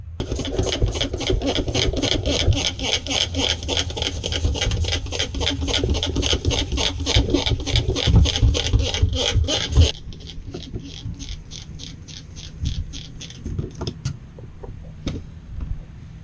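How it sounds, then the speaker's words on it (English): A stiff scrub brush works over the inside of a boat hull during bilge pump preparation, sounding as a fast, steady rasping stroke that runs loud for about ten seconds, then continues lighter and more spaced out. "And then we're just going to go in there with a scrub brush, and we'll scrub."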